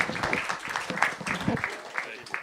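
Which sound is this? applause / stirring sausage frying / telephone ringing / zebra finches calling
applause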